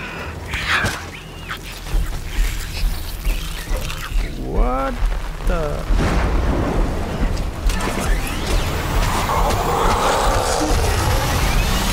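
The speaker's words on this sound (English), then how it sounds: "Is it acid rain?" Heavy rain pours steadily in the video game Death Stranding while low thunder rumbles, with a few brief game sounds cutting through and the downpour growing denser toward the end.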